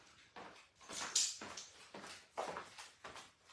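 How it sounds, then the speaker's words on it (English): A dog barking and whimpering indoors at neighbors across the street: a series of faint, drawn-out whines and soft woofs in an irregular rhythm. "You don't need to be barking at the neighbors."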